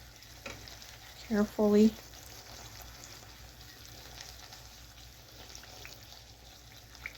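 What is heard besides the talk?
buñuelos frying in oil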